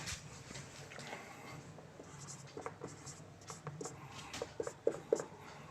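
Chalk or marker scratches and taps across a board while a maths solution on lines and angles for a class 9 lesson is written out, soft strokes at first, then sharper knocks toward the end.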